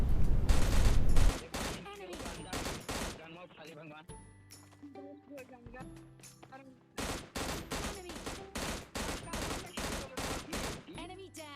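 Gunfire in PUBG Mobile Lite, with someone talking over it: dense bursts of automatic rifle shots in two clusters, a fast volley at the start and a rapid rhythmic string near the end, with quieter pings and game sounds between.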